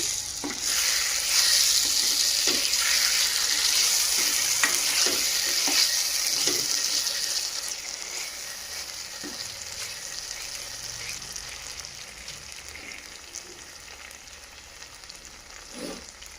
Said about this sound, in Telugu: అల్లం వెల్లుల్లి పేస్ట్ కూడా పచ్చివాసన పోయే వరకు వేపుకోవాలి